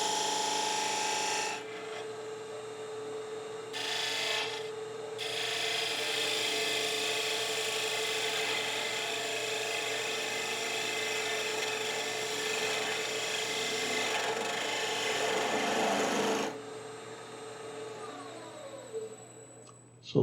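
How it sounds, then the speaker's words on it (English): A shallow fluted gouge cuts a half bead into spinning wood on a lathe while making a scoop, giving a steady close rasping hiss with a constant motor hum beneath, broken by two short pauses before the cut stops near the end. "So I'm going to a shallow fluted gouge at this point. Just a half a bead, clearing out some junk wood on the wrong side of the project."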